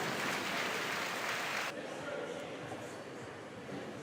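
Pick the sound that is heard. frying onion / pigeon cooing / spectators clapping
spectators clapping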